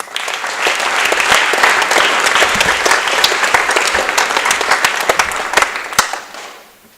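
Applause breaks out from an audience at a high school academic and scholarship awards ceremony, sharp individual claps forming a lively, full round that builds and then fades out at the end.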